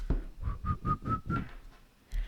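A person whistles a short run of five or six quick, breathy notes at a steady pitch, then a soft breath follows.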